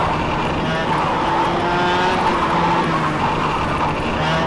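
A go-kart engine driven hard in the KartKraft racing game, a steady buzzing drone rising and falling in pitch with throttle and cornering, close and continuous throughout, with someone talking over it.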